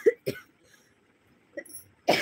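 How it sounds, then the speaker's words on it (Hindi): A person coughs twice in quick succession, pauses, then gives a smaller cough and a harsher, louder cough close by. "खांसी आ रही है।"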